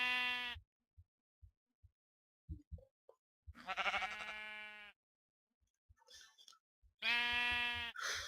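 Sheep in the video game Minecraft bleat in three loud, drawn-out calls separated by quiet gaps, with faint clicks of game sounds between them and no talk.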